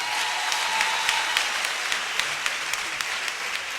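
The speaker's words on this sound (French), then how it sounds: "Tu peux acclamer Jésus." A congregation claps in sustained, even applause in praise of Jesus during a church testimony, a thick wash of many hands close by; no distinct cheering voices stand out above the clapping.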